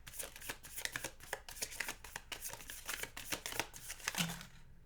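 Tarot cards shuffled for a Leo reading, a steady run of quick, crisp riffles and flicks with a brief low thud near the end, close and fairly quiet, with no talking over it.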